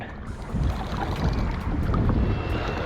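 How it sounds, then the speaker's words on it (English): Steady wind buffeting and rumbling, with low roaring gusts and water noise from a moving fishing boat at night on Green Bay, continuous throughout. "I hope you can hear me with all this wind."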